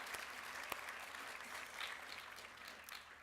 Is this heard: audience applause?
yes